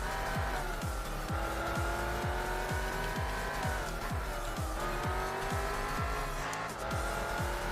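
Race car engines drone steadily in a Gran Turismo 4 Spec II mod race, with a Mazda RX-7 on track. The engine note rises and falls through repeated gear shifts, heard alone with no talk.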